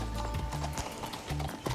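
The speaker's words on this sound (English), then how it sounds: "She's a very big, strong horse" A big, strong horse's hooves clip-clop close by in a quick, even rhythm of sharp thuds, alone without talk.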